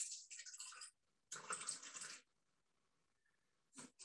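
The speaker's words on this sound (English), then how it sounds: "we just put in 130 grams of water" Water poured into a Thermomix bowl in a home kitchen: two short splashing pours separated by a pause, faint overall, with a brief splash at the end.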